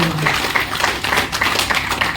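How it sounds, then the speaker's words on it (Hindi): Loud, energetic applause from a crowd at an AWPL seminar in India, a dense, continuous clatter of many hands that holds steady for a couple of seconds. "ये बात जोरदार ताली होना चाहिए।"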